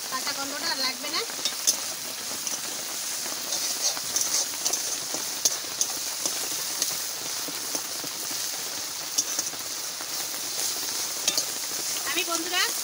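Masala spices with garlic fry in a pan for a spicy prawn masala, making a continuous close sizzle broken by scraping stirs and crackling pops throughout.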